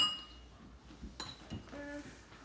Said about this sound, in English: you want to whisk it up